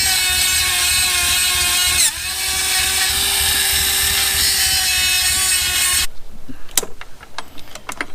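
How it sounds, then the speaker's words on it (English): A small portable grinder whines steadily and loudly while sharpening tools outdoors, cutting off abruptly near the end, leaving scattered clicks and handling noises. "this is a little portable grinder for out in the woods"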